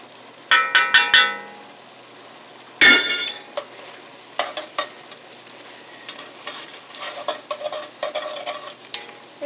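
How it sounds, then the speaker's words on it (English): A spoon scrapes and clinks in a pan as flour cooks into beef stroganoff, with bursts of stirring, metallic taps and a faint sizzle, close and fairly loud. "So we cook this flour in, right? Cook the flour."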